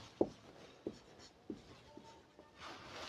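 Chalk or marker taps and strokes on a board in a classroom, four or five short distinct knocks spaced about half a second apart, fairly close, with a brief faint scrape near the end.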